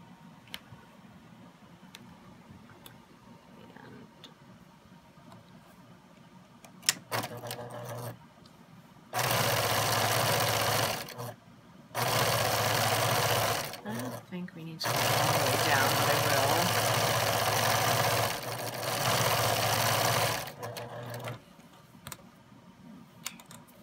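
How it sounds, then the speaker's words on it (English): Sewing machine stitching strips of fabric together for a flag, running in four loud, steady bursts separated by short pauses, with a voice talking quietly before the first run. "So let's sew these together."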